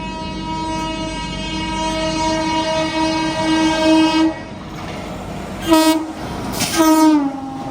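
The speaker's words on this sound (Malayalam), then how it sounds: "പുരി ഹൗഡ ശതാബ്ദി ഇപ്പം ഓവർടേക്ക് ചെയ്തു പോകും" The Puri–Howrah Shatabdi express sounds a long, steady horn, then roars past close by with a rushing clatter and two more sharp horn blasts, overtaking a halted train.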